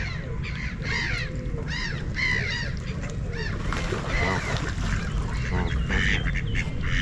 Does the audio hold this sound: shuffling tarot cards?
no